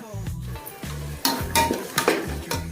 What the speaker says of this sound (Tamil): இப்போ நல்லா வதக்கிடலாம்.